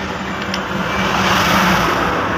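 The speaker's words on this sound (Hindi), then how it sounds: "और इस तरफ देखिए पूरा गाड़ी सब फाड़ फाड़ के जा रहा है" Steady roar of cars and other vehicles rushing past on the Sadiya bridge, a continuous loud wash of road and engine noise with no single pass standing out.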